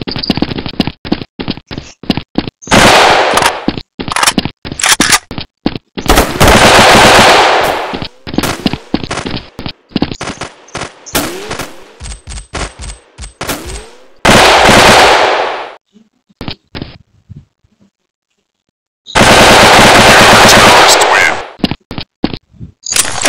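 An AK assault rifle firing in a gun video game, loud close bursts of rapid automatic shots and single cracks separated by abrupt silences.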